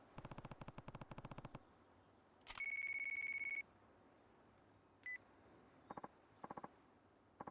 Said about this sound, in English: Of course he has to phone us right now.